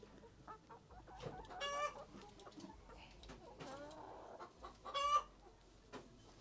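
Chickens cluck and squawk nearby in a backyard farm in scattered bursts, with a couple of louder crowing-like calls standing out over a quiet background.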